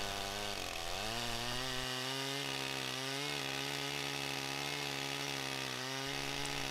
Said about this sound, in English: It's enjoyable to cut with the grain in this way.